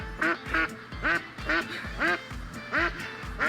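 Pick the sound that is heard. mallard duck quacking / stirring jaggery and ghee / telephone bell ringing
mallard duck quacking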